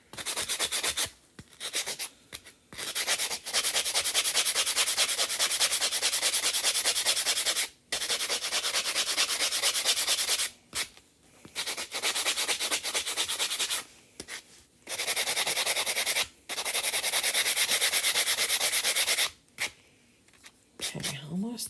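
Hand sanding on a craft surface, loud close scratchy rubbing in long sustained strokes broken by short pauses, with a voice speaking now and then between passes.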